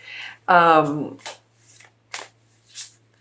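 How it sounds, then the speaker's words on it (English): Tarot cards shuffled by hand, giving a few short, soft riffling bursts spaced apart after a brief voiced sound near the start. "I was shuffling the cards"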